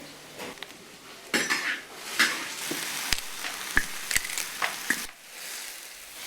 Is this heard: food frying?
yes